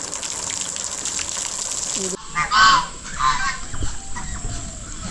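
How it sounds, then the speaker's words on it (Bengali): Geese honk loudly in a park in Malda, West Bengal, among chickens and ducks, with two or three close, harsh calls standing out over running water and a steady background hiss. "এখানে রাজহাঁস দেখুন কেমন করছে"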